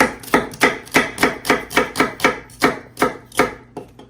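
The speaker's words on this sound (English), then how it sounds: "An onion's very easy to brunoise." A kitchen knife chops an onion into fine brunoise on a cutting board, with about a dozen crisp, evenly spaced strikes in a steady rhythm, close and clear, and no talking.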